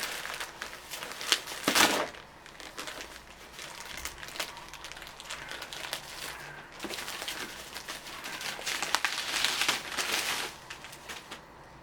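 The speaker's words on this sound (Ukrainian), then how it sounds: "Відкриваю маленькими ножицями, щоб нічого не пошкодити." A parcel is cut open with small scissors. Continuous papery crinkling and rustling of the packaging runs throughout at a low, steady level, with brief louder crackles and no talk.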